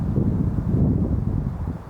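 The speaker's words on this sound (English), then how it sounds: "Plus the wind gusting to 25." Wind gusting to around 25 at Cleveland airport on a cold day, a steady loud low roar buffeting the microphone throughout with no voices.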